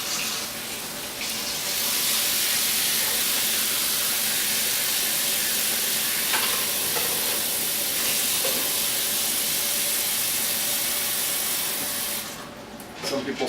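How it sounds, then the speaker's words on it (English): Cold tap water runs steadily and loudly into a pot for most of the clip, a broad rushing splash that stops near the end. "So we're going to go ahead and just run some cold water in here."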